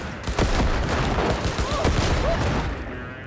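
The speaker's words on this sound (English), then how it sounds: "I just like shooting the explosives." Gunfire and explosions in the Cyberpunk video game, as rapid bursts of shots and blasts that run continuously and loud through the whole stretch, with no clear talk on top.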